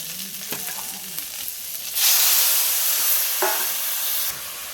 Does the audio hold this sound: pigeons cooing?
no